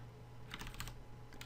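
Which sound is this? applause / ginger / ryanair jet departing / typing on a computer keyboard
typing on a computer keyboard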